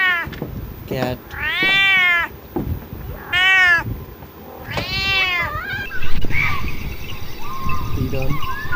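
A cat meows several times, drawn-out tonal cries rising and falling in close succession, with rustling background noise and a later stretch of rougher sound.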